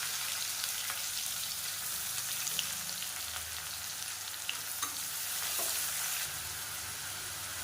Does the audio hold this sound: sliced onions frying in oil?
yes